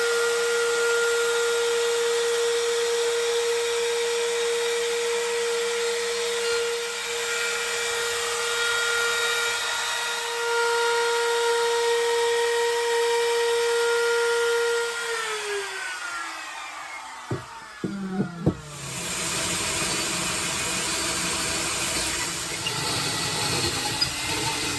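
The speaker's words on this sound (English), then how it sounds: "I'm going to get on now and router the extra depth in the pickup cavities" A router cuts 3 mm deep pickup cavities into a guitar body, a steady loud high-pitched motor whine holding for about fifteen seconds before spinning down, a few knocks, then continued broadband cutting noise.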